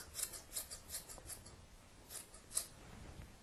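Scissors snip through skirt fabric in a quick series of soft, close crisp cuts, about ten in all, with quiet rustling between.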